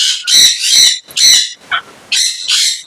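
Grey parrot, a Congo or Timneh type kept at an exotic bird setup, giving a series of loud, harsh calls in close succession, with short pauses and a brief lower squawk between them.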